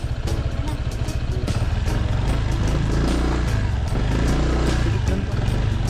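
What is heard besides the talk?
motorcycle engine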